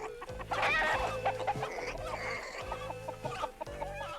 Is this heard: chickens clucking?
yes